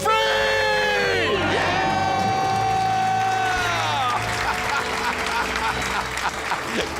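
A crowd shouts a loud, sustained celebratory scream of being debt-free during a live radio talk show, the voices cheering together for several seconds.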